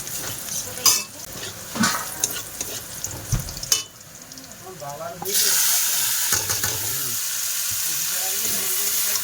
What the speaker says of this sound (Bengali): কলমি শাক ভাজা